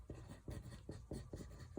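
A pen or pencil writes a fraction on paper in a quiet room, producing faint, rhythmic scratching strokes that come in short repeated bursts, with no one talking.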